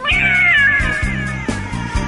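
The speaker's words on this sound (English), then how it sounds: "staring you face to face in the mirror is a cat" A cat meows loudly and close by in one long drawn-out wailing cry over a steady rhythmic low pulsing background, with no talk.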